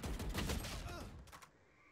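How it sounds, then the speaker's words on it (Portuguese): Rapid gunfire from the video game Valorant, a dense rattling burst of overlapping shots that fades over about two seconds. "A galera atira pra porra, meu irmão"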